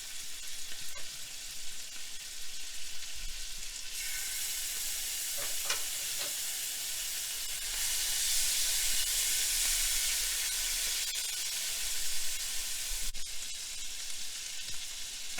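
Butter and garlic sizzling in a frying pan during a beef stir fry, a steady bright hiss that swells louder midway with faint stirring scrapes, close and continuous, no talk.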